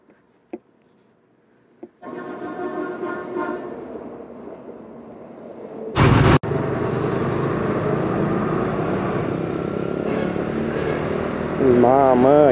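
Two riders push a motorcycle through congested traffic. A steady engine drone runs throughout, broken mid-way by a short, loud roar or buffeting burst.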